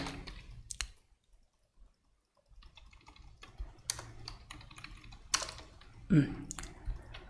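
Clicky typing on a computer keyboard while coding in ReactJS, scattered bursts of keystrokes with short pauses, close and moderately loud, with someone talking between them.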